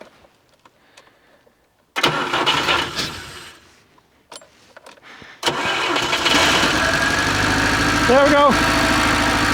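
A Żuk engine cranks after a quiet moment, with the choke pulled and the gearbox in neutral. It dies, then catches and settles into a loud, steady idle, and someone speaks briefly.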